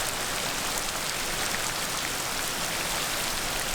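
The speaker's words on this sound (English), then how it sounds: "This rain's gonna cut us off early, unfortunately." Rain pours down in a willow marsh, a dense, steady hiss of drops on water and foliage, close and constant with no voices.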